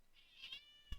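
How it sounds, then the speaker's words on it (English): A cat meows loudly and insistently, a drawn-out wail followed by short sharp cries close by. "I got a cat just absolutely yelling at me right now"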